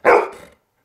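A dog barking on command, one short, loud, close woof that cuts off cleanly.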